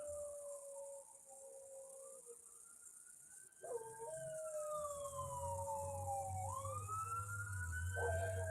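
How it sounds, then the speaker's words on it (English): A fire truck's wailing siren sweeps up and down in pitch, growing louder as it approaches with a deep engine rumble underneath, then continuing close by. "Oh, that's a fire truck."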